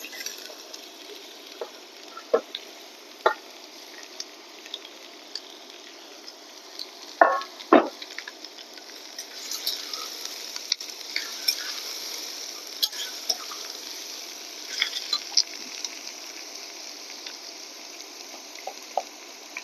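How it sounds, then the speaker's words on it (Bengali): Grated beetroot frying with browned onion and garlic for a beetroot-cabbage bhaji, a soft hissing sizzle throughout with scattered light clicks and a couple of louder scrapes as it is stirred, close-up, no speech. "পেঁয়াজ রসুনগুলো এমন একটু বাদামি কালার হলে আমি এই কুচানো বিটগুলো আস্তে আস্তে দিয়ে দিই"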